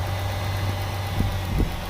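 After a timing belt and water pump repair, a car's 2.0 engine idles smoothly at close range, with a steady low hum and a few faint thumps and no ticking.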